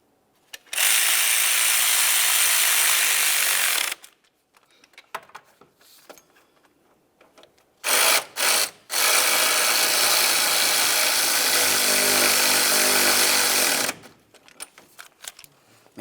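A ratchet wrench clicks rapidly as alternator bolts are snugged tight on a 2011-2018 Volkswagen Jetta, with two long loud bursts of ratcheting separated by a quiet pause and a few short strokes.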